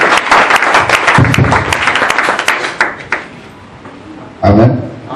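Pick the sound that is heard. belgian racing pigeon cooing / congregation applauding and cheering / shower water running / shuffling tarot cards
congregation applauding and cheering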